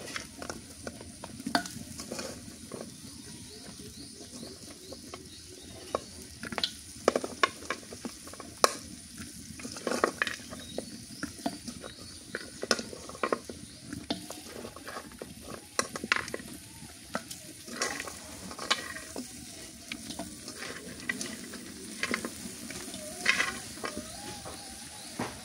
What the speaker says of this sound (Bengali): যে এত বড় চামচ এনে দিয়েছে, এই চামচ দিয়ে নাড়াই ভালো হবে।